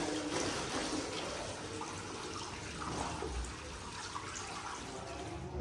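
Green chillies washed in a basin of water in a village kitchen, giving a steady, soft wash of splashing and trickling that runs the whole time at fairly low volume, with no talking.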